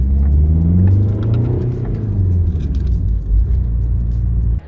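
A 2004 VW Passat estate with the 1.9 TDI diesel pulls hard under acceleration, a loud, close, deep engine drone that climbs and holds for several seconds before cutting off.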